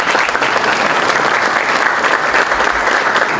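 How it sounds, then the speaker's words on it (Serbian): Sustained applause from a congress audience fills the whole stretch, a dense, steady wash of many hands clapping at close range with no pauses. "tako da jedan veliki aplauz"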